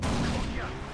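Grenade explosion in the shooter game Far Cry 4, a loud close burst of blast rumble and crackle that fills the moment and decays over about a second.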